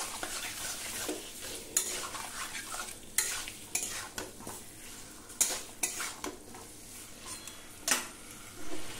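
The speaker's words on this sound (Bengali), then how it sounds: "দিয়ে দেবো ম্যারিনেট করা চিকেনটা দিয়ে চিকেনটা খুব ভালো করে মশলার সাথে কষে নেব" Marinated chicken sizzling with spices in a pan while a spatula scrapes and clatters against the metal in irregular stirring strokes, close and fairly busy, with no one speaking.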